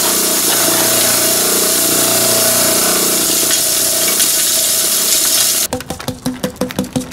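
An impact mill grinding ore samples for gold, a loud continuous mechanical roar that cuts off abruptly near the end, followed by a run of rattling knocks as it winds down.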